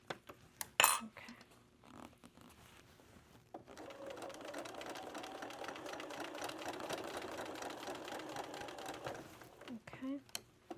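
A sewing machine stitches a ruffle onto a thrifted shirt, running steadily for about six seconds after a few brief clicks and handling noises, close and moderately loud.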